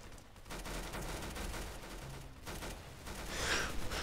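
Gunfire in the Roblox game Arsenal comes as a dense, continuous burst of rapid shots, loud and close, with no talking.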